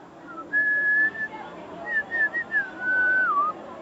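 A man whistles a short tune, clear pure notes in a few held phrases and quick runs, alone and close.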